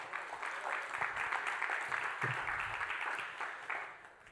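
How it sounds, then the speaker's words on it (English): Audience clapping at a motivational church talk, a steady broadband patter of many hands sustained for several seconds at moderate distance, with a brief low thump partway through. "Let's give the Lord a clap"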